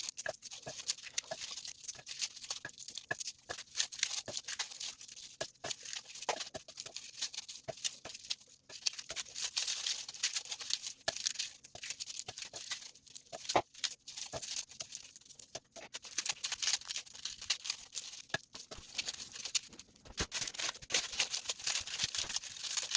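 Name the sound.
peeling garlic cloves by hand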